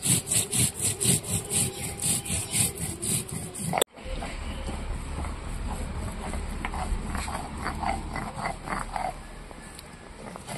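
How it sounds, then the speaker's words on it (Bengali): Cumin, then ginger, is ground into paste by hand, first with a steady run of close, rhythmic scraping strokes, then shifting to a softer, continuous rubbing grind. "তো জিরেটা অনেকটাই বেটে নিয়েছি"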